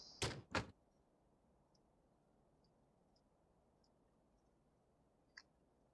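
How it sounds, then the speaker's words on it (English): An aircraft cabin door shuts in the X-Plane 11 flight simulator game: two quick close thuds, then near-silence with faint small clicks and one later soft tap. "let's go and close our door up"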